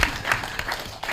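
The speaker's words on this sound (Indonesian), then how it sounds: "tepuk tangan dulu buat Olive ya" Brief applause fills a radio studio during a live interactive talk show, a short burst of clapping from a few people, moderately close.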